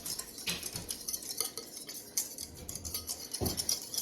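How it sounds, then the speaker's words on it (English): A utensil stirs a cornstarch-and-water egg substitute in a dish, giving scraping, clinking strokes at an uneven pace with a couple of louder knocks against the bowl, close up and with no talking. "Mix together, get out all the clumpies."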